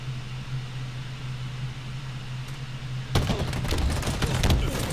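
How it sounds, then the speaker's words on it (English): A rocket launcher blast in Halo Infinite multiplayer erupts suddenly after a stretch of low steady hum, followed by a loud, crackling burst of explosive noise and debris that continues to the end. "Oh, that was a rocket launcher."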